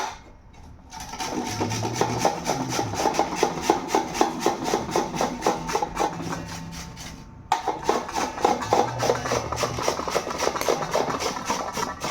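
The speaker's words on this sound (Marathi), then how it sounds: "मी अशी आता सर्व किसून घेते" Peeled radish (mooli) scraped against a grater for parathas, a fast rhythmic rasping of repeated strokes that pauses briefly midway and then resumes, heard close and alone.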